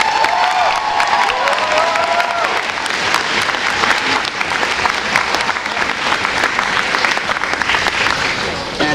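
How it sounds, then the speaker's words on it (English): Audience applause at a 2012 anime convention cosplay contest, a steady, dense wash of clapping from a large crowd filling the room throughout, with a few faint whoops mixed in. "so if we could have a round of applause for them."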